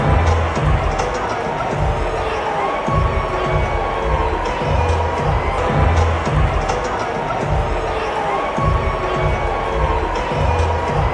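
Sustained loud booing from a massive World Series stadium crowd, a thick rumbling roar of voices that never lets up.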